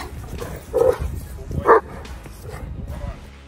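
Kangal dog, a large Turkish guard breed, giving two short deep barks, near and moderately loud, over background noise and under a speaking voice.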